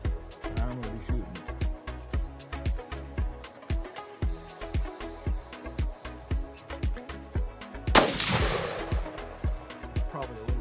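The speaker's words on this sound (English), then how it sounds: "I'm gonna be shooting." A single gunshot fired while hunting on a Zimbabwe safari: one sharp, loud report with a ringing decay, over a steady background of rhythmic clicking beats.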